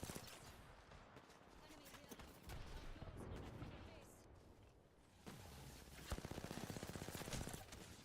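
Rapid sustained fire from the Sheila minigun in Apex Legends, a dense rattling stream of shots during a chaotic firefight that grows louder and more rhythmic toward the end, mixed with other gunfire and game noise.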